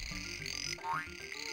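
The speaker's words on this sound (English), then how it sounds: "can you guys hear the frogs? Are they loud enough?" Frogs croak in the PS1 video game Casper: Friends Around the World, a dense looping chorus of croaks with a rising chirp, steady and fairly quiet with no talking over it.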